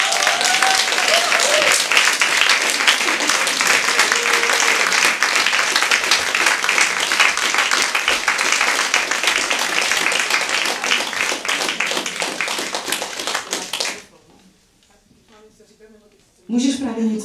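A theatre audience at Divadlo Kampa claps loudly and steadily for a guest for about fourteen seconds, then goes quiet before a voice speaks.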